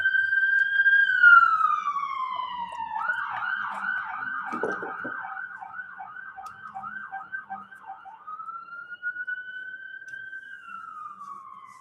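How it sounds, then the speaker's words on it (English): An emergency siren sounds up close, sweeping in long wails and then switching to a rapid yelping warble before returning to a slower wail. "There's some sirens, you know, always"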